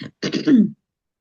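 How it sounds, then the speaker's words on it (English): A person clears their throat in a quiet room, two short rough bursts followed by a longer gravelly rasp, close and alone. "let me clear my throat"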